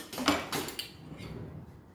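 A small spoon clinks and scrapes as it scoops ghee, homemade clarified butter, into a jar, producing a few close, light metallic taps over about two seconds.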